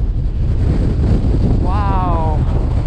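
Strong wind buffeting the microphone on the exposed hilltop of Cox Tor on Dartmoor, a loud, continuous roaring rumble, with a person's voice briefly rising through the gusts partway through.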